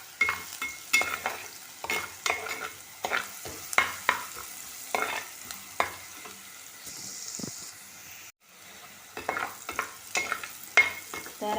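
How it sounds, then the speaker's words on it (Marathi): Chopped onion frying in a pan on the stove, a soft sizzle under repeated scraping strokes of a spoon stirring it, close and fairly quiet, with a short pause near the end. "तर आता हा कांदा बऱ्यापैकी शिजला आहे।"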